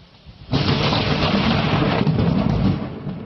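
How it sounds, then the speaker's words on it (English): A thunderstorm with torrential rain over southern Britain: a heavy, steady roar of rain and rumbling thunder that starts abruptly and stays loud throughout. "the storms and torrential rain swept across southern Britain overnight with spectacular displays of lightning like this"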